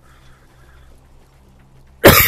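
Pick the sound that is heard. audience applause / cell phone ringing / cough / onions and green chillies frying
cough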